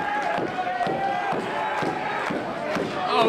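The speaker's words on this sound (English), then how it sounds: "with this crowd continuing to chant on Strider for some unknown reason." Wrestling crowd at a live June 2012 pro wrestling match in Kansas City, Kansas, chanting in a steady rhythmic pattern of loud repeated bursts that fill the arena throughout.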